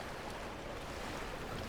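Water lapping and surf-like wash blended with a steady wind in an old video game, a continuous even ambience with no pauses and no talk.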